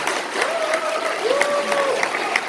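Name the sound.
audience applause at a debate forum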